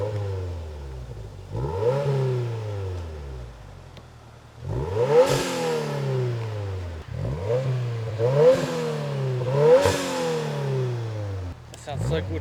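A car with a 2.4-litre engine and a Q300 catback exhaust revs repeatedly through a deep exhaust, about five rising throttle blips with low idle between them, close and fairly loud.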